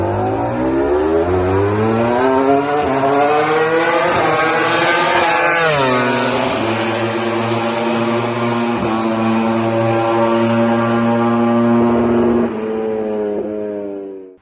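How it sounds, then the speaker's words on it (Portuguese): Yamaha's V4 MotoGP test engine roars hard and close, its pitch climbing through rising revs to a high peak, then falling away and revving up again in long sweeping pulls, loud and unbroken. "Eu vou deixar aqui na sequência o ronco deste motor V4 da Yamaha, que está em teste e que foi divulgado pela própria Yamaha."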